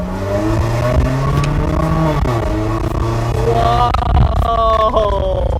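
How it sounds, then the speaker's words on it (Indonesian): Suzuki Jimny 2020 with an HKS aftermarket exhaust revving close by, engine pitch climbing and falling through several throttle blips, loud and raspy with no speech over it. "kita cobain dulu suara dari knalpot HKS ini, apakah asik?"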